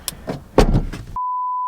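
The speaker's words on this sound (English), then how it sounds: "he closed the door on me." A car door closing on a Mitsubishi Evo wagon, heard from inside as a muffled thud and rattle, followed by a steady electronic tone.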